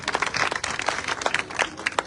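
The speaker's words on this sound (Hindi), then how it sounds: "एक बार मैं आप लोगों से कहूंगा तेलूराम जी के लिए जरूर तालियां बजाया।" A crowd at an election campaign rally claps steadily, dense and fairly loud, a short burst of applause with no voices standing out.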